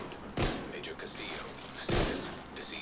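Two sharp bursts from an SMG loaded with foam bullets in the video game The Division 2, spaced about a second and a half apart over a quieter game background.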